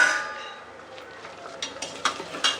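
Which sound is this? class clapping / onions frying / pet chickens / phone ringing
onions frying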